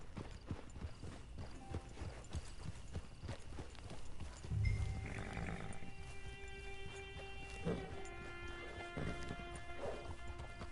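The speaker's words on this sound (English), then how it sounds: "Get your horse." Horse hooves clip-clop steadily in a video game, a rhythmic trotting that persists through the clip beneath ambient game music and sound, with one louder thud midway.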